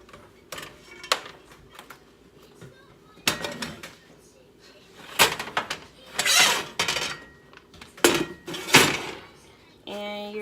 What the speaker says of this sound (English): So now you're going to take this half and put it in your cake pan.